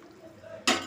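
Hot water splashes into a cooking pot in one sudden loud gush near the end, after a stretch of quiet kitchen clatter.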